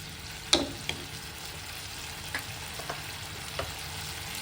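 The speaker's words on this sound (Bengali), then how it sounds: "দেখুন বান্না এখন ফুটতে শুরু করেছে। এবার আমি মাছগুলো এর মধ্যে অ্যাড করে দিলাম।" Prawns in a mustard and poppy seed masala bubble and sizzle in a pan, a quiet steady fry broken by a few sharp spoon clinks and stirring taps, with no voices.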